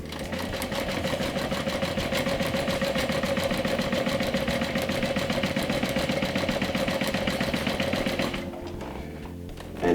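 A sewing machine stitching a backpack seam with a quarter-inch seam allowance runs steadily and loudly for about eight seconds, then stops, leaving quieter room noise.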